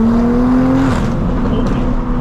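A 700-horsepower Toyota Supra running on E85 fuel accelerates hard, its engine note climbing steadily before a gear change, loud and close throughout from inside the car.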